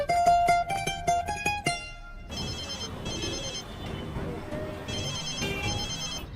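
A telephone rings with a quick run of bright electronic tones for about two seconds, followed by softer repeated tones under talking.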